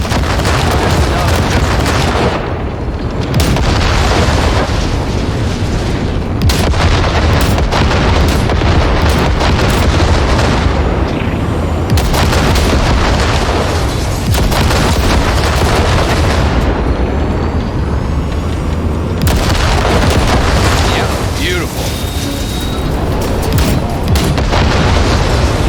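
Gunfire and explosions in Cyberpunk 2077, a loud, dense barrage of booming blasts and rapid shots that continues without pause, with brief dips between heavier bursts.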